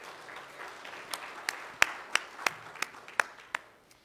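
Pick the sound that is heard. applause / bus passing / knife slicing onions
applause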